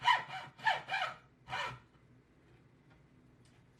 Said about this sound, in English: we get to use these little saws here,